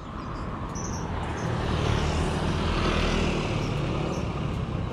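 A low-flying airplane passes overhead on a city street, its engine drone loud and steady and swelling slightly in the middle before easing, with faint street noise around it.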